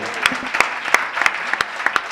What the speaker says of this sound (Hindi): एक बार अपने सम्मान में तालियां बजाइए।